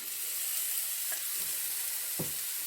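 Meat with spices and onion sizzling in a thin drizzle of sunflower oil, a steady close hiss of frying with a couple of faint stirring clinks.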